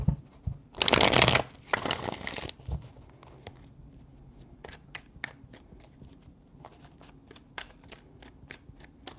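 Tarot cards shuffled in a few quick riffling bursts close up, followed by a series of lighter taps and clicks as the deck is handled.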